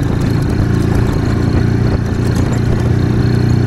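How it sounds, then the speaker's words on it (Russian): An IZh Planeta motorcycle engine runs steadily nearby, a loud, even droning hum that holds constant throughout without revving. "Четко мотоцикл идет."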